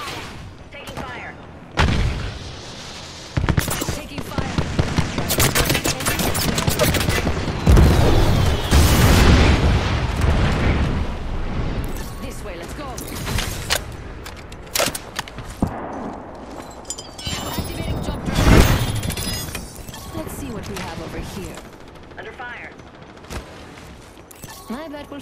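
Gunfire and explosions in Apex Legends ranked play, with bursts of rapid shots and heavy booms through a dense, loud battle mix; speech comes in at times.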